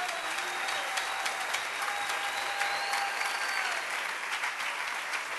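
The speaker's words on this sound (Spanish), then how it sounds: "Dale un aplauso bien fuerte al rey." Congregation in a church applauding for the king during a Purim celebration sermon, a steady, dense wash of clapping that holds evenly throughout, with faint vocal whoops or cheers mixed in.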